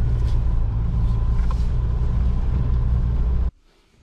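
An off-road car crawls in second gear, its engine giving a loud, steady low rumble that drones on evenly and then cuts off abruptly near the end.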